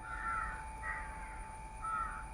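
A person imitates crow caws to call crows in, giving three loud, drawn-out caws spaced across a couple of seconds over steady background noise.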